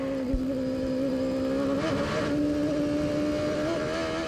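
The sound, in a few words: IndyCar race car engine revving at Cleveland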